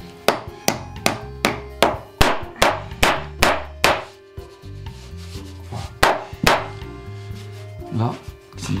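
Loud, close hand sawing through wood with a flexible-bladed saw, steady rhythmic back-and-forth strokes that turn slower and more uneven toward the end.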